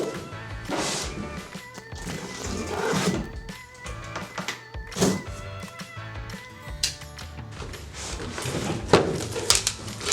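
A knife slices through cardboard box packaging for a DC Sports S2000 cold air intake, giving several scraping, tearing strokes with bumps and rustles close by.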